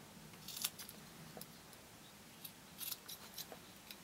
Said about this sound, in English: we're just going to cut them with our scissors